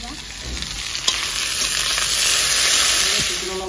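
Chopped onions fry with ginger-garlic paste in a pan, a steady close sizzle and hiss with occasional stirring scrapes, continuous and fairly loud throughout, no voices.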